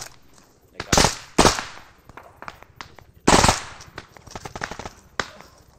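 Bursts of simulated gunfire ring out during a tactical training exercise against a simulated Russian special forces team, with several loud sharp volleys and scattered single shots close by.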